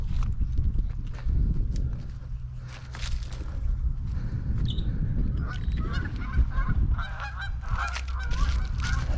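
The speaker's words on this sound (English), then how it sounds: "There's some geese over there, some ducks just took off." Geese honk near a parked D6H bulldozer while ducks take off, the calls rising over a rumbling, scuffing outdoor background, with a few louder bursts toward the end.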